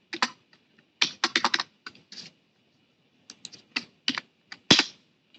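Fast bursts of typing on a computer keyboard, close and clear, with short clusters of key clicks separated by brief pauses and a louder final keystroke.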